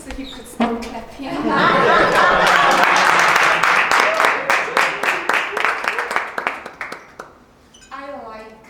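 A club meeting audience bursts into sustained clapping, a thick wash of many hands that thins into scattered claps before dying away, with some chuckles and chatter mixed in and a voice speaking at the end.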